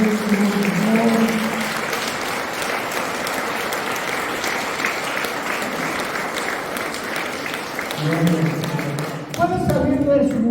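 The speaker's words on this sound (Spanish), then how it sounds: "Y le damos un fuerte aplauso a nuestro Señor." Church congregation applause offered to the Lord during a Sunday service, a full, sustained roar of clapping from a large crowd with voices and a tonal musical sound rising at the start and end.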